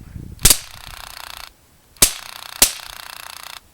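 Modified Drozd Blackbird air pistol firing BBs on full auto, three sharp loud cracks each followed by a rapid buzzing burst of shots, close up.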